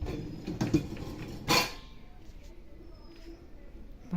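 The lower rack of a dishwasher is pulled out, dishes rattling in a couple of short clattering bursts near the start, then fading to quieter handling noise.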